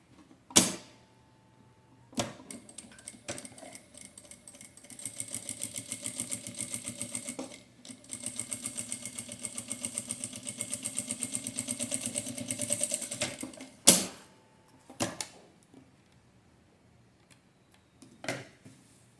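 A sewing machine stitches a fabric phone holder with creaky, rhythmic mechanical runs in two long stretches, broken by sharp clunks and handling knocks, close and alone.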